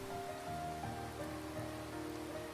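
Rain in the visual novel Asagao Academy, a soft steady patter of drops and rain on a surface, faint and continuous under a light background music bed.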